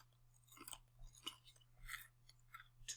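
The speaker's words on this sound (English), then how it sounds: "I got so many crackers in my mouth." Close, crunchy chewing of a mouthful of crackers, with several separate bite-and-crunch bursts spaced about half a second apart and no talking.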